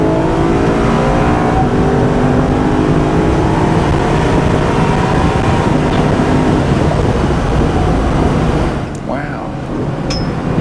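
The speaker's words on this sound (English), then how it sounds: "what's blessing your ears right now are the juicy sounds of factory ITBs." A car engine roars loudly and continuously with a rich, rising intake howl from factory individual throttle bodies and a stock exhaust, held steady under load before easing off near the end as the car lifts.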